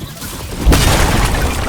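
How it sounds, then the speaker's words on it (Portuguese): A single sharp boom from a semi-automatic sniper rifle in Fortnite cracks out about midway, followed by a loud, sustained rumbling tail. "Aquela sniper lá que tem tiro semiautomático."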